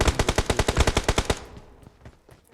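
Rapid automatic gunfire from PUBG Mobile on the Erengel map, about a dozen evenly spaced loud shots in a burst lasting just over a second, then fainter scattered distant shots trailing off.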